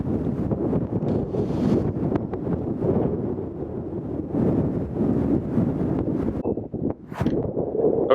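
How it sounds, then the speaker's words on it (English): Strong wind blows outdoors near ruins in Colorado on a snowy morning, buffeting the microphone in a loud, continuous roar with gusty swells throughout. "hopefully you can hear me over the wind"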